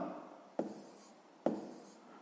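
A pen moves across paper during a sixth-grade maths exercise, giving two short scratchy strokes that each begin with a tap and fade out, quiet and close, with no talking.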